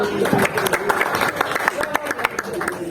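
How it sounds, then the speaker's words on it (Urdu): An audience bursts into applause, a scattered patter of clapping mixed with crowd voices and talk throughout. "زوردار تالیاں"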